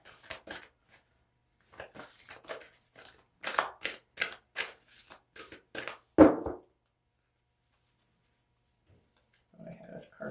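Oracle cards being shuffled by hand in a series of short, close riffling bursts separated by pauses, with one sharper slap and a soft rustle near the end.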